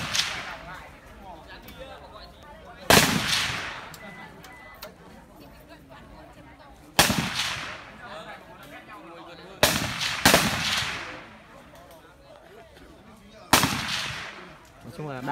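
An AK-47 rifle fires live rounds at an outdoor range, with five loud, sharp single shots at irregular intervals, each followed by a ringing echo that decays. Quiet voices and ambient noise fill the gaps between shots.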